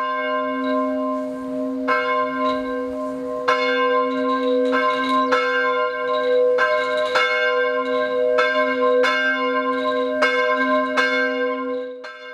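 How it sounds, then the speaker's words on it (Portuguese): A church bell in Palmas rings loud and resonant, struck again and again at a steady pace of roughly one to two seconds, each ring overlapping the lingering hum of the last, with no voices. "Eu bati uns 54 anos no sino aí."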